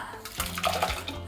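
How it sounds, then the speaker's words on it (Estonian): Leftover water being poured away, splashing and gurgling in a short close burst that surges and then tapers off. "Ülejäänud vesi, see tuleb lihtsalt ära valada."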